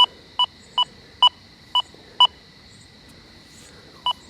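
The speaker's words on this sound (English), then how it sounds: "Hear that little double beeper?" Deus 2 metal detector with an HF2 coil sweeping a yard over a buried silver dime and colonial nails, giving sharp, clear electronic beeps in quick pairs and singles, repeated several times over a quiet background.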